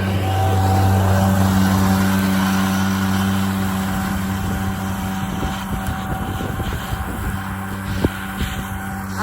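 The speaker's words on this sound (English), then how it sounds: "So here's our tractor again." A tractor engine drones steadily nearby during hay making in the countryside, a continuous mechanical hum that fades slightly with wind noise toward the end.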